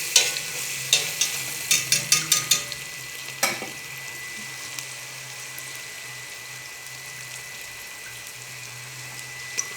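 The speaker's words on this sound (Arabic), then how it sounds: "وعندنا هاي الشعرية بنات. هسه نظل نحمس" Vermicelli toasts in a pot for lentil soup while a spoon scrapes and clinks against the metal in a quick run of strokes, over a low steady sizzle.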